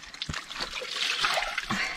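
Liquid is poured and splashed while organic village butter is washed, with short trickles and splatters in quick, uneven bursts at close range.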